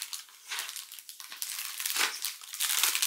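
Rummaging through a slightly broken plastic sticker organizer, with crinkling and rustling of sticker sheets and packets in close, uneven bursts, no talking.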